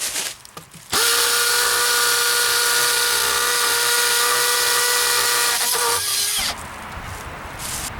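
Makita XPH07 brushless 18V hammer drill boring a quarter-inch hole into hollow block, a loud sustained high whine for about five seconds, starting and stopping abruptly.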